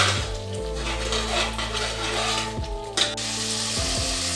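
Whole spices and masala cooking in a pan for mutton keema, a steady sizzle running throughout with a low tonal hum underneath and a brief clatter near the end.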